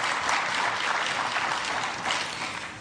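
Steady applause from an audience, a dense wash of clapping hands that holds strong and then tapers slightly toward the end.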